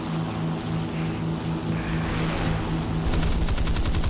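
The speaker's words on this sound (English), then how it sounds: "These planes are like flying absolutely everywhere." Aircraft engines drone steadily through a War Thunder air battle, with a dense, rapid burst of machine-gun fire breaking out near the end.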